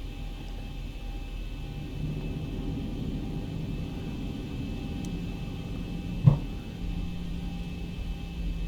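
An airliner's engines in the X-Plane 11 flight simulator give a steady, low, even rumble and hum as thrust builds during taxi, joined by one brief thump partway through. Fairly loud and constant throughout.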